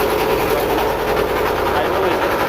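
A country boat's engine on a river in Assam runs in a continuous, loud, droning hum that holds steady from start to finish.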